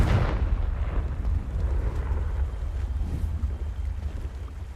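Confringo blasting spell explosion in Hogwarts Legacy, a loud burst at the start that gives way to a sustained low rumbling roar with wind-like noise for several seconds.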